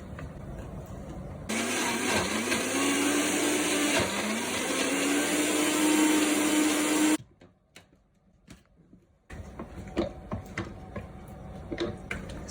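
A blender runs on high speed, mixing frozen mango, yogurt and honey. It whirs loudly and steadily for several seconds, then stops abruptly. A quieter stretch with light clatter follows.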